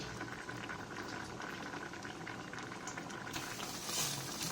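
Mung beans boil in a pot with a steady, dense bubbling that is fairly quiet and continuous throughout, with no voices.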